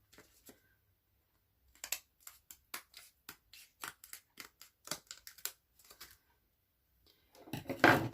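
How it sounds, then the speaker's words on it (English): Quiet, crisp snips of scissors cutting vellum, a run of short cuts in an irregular rhythm, close up, followed by a brief rustle. "So I'm just using the edge of the vellum to line up my scissors."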